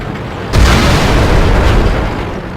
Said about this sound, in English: that one shot from my own team's artillery, because Russia, yeah, that pretty much screwed me over.